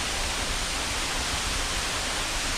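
Cascada Las Delicias, a waterfall in Colombia, pours in a continuous broadband roar that stays steady and moderately loud for the whole stretch, with no voices or other sounds.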